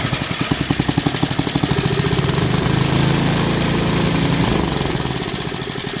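A small engine runs loudly close by with a fast, rhythmic chugging beat, then its note shifts and sags near the end as it is cut off by short-circuiting the ignition, with no talking.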